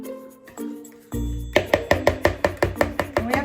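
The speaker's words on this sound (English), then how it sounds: "Mix that in real good" A spoon mixes Lotus Biscoff cookie cake batter with buttercream in a bowl, giving a close run of about a dozen quick, evenly spaced knocks and clinks against the bowl after a quieter start.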